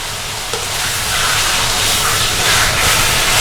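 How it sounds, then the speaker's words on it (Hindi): Chicken, 750 grams, frying and being browned in a pan for chicken masala pulao, giving a steady, loud broadband sizzle and hiss that swells slightly and holds throughout without talk. "अब हम इसको अच्छे से भूनते हैं।"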